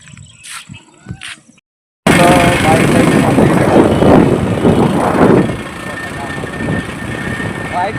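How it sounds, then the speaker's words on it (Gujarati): A loud, continuous roar from a moving motorcycle, with engine and rushing wind noise, cuts in abruptly after a few quiet seconds and holds steady before easing slightly near the end. "બાઇક વાત કરે એટલે થોડો અવાજ આવતો"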